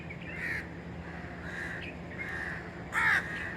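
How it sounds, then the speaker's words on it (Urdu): Crows caw outdoors in a few hoarse bursts spread over several seconds, the loudest and closest near the end, over a quiet background hum. "ابھی جو ہے پریندے کی آواز سنیں"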